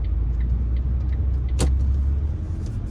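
A car creeping slowly along a residential street in Charlotte, North Carolina, heard from inside as a steady low engine and road rumble, with a short sharp click partway through and no talk.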